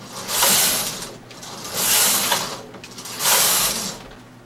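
A Studio electronic knitting machine's carriage sweeps across the needle bed three times, each pass a loud rushing, rattling swish separated by brief quieter gaps.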